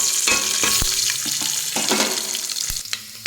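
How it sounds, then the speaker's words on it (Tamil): Spices frying in hot oil for Tamil-style fenugreek rice, giving a steady close sizzle with a few sharp crackles and pops and the scrape of stirring, with no talk. "நான் எல்லா ஸ்பைசஸும் ஆட் பண்ணிக்கிறேன்."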